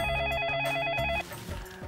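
A telephone rings indoors with a rapid electronic trilling bell that repeats for about a second before cutting off, leaving a quiet room tone.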